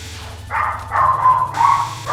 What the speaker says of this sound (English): Annoying neighbor's dog.